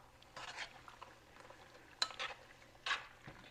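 Mac and cheese sauce being stirred in a pot: a few soft, short scraping strokes with faint utensil clinks, quiet and close, spaced irregularly over low background hiss.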